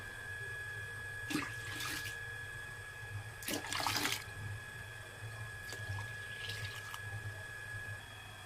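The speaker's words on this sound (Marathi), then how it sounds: "आता आपल्याला यामध्ये भरपूर पाणी घालून यामधला चोथा वेगळा करायचा आहे" Water splashes and sloshes in a few short bursts, poured into soaked wheat and stirred in a vessel close by to separate the pulp, with quiet pauses between.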